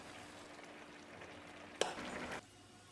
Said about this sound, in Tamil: இதை மறுபடியும் ஒரு தரம் நல்லா கலந்து விட்டுடலாம்.